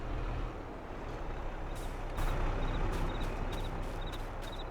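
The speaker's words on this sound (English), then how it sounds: "let me go ahead and park the grain trailer" A truck pulling a grain trailer parks in the farming video game Farming Simulator 22: a steady low engine rumble with a sharp air-brake hiss, followed by a series of evenly spaced reversing beeps, all fairly faint.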